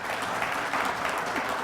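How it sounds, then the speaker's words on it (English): Audience applause during a televised political conversation about Texas Medicaid, a steady dense wash of clapping that fills the whole moment at moderate level, with no voices on top. "well, you're welcome to applaud, that's"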